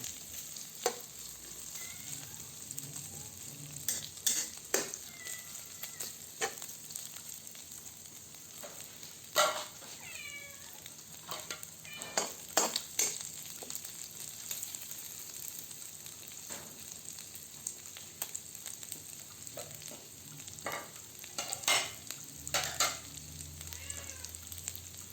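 Leftover fried fish sautéing with onion and garlic in a pan, a constant soft sizzle with scattered sharp clinks and scrapes of stirring throughout, no voices.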